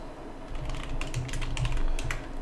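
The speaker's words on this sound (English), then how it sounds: "Make sure you take off your caps lock and type in rolling mask." Quick bursts of typing on a computer keyboard, close and moderately loud, with irregular clusters of key clicks over a low background hum.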